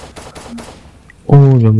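Rapid gunfire shooting zombies in the Zombie Poly video game, a few sharp close shots in quick succession, then a voice speaks loudly over the end.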